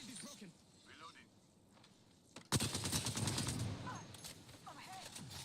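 Gunfire in the Apex Legends video game: quiet game ambience and faint voices give way to a sudden loud burst of rapid automatic shots, followed by continued dense firing and action sounds.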